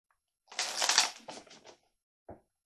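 Tarot cards being riffled and shuffled up close, a quick flurry of crisp papery flicks tapering off, then one short final snap, with no voices.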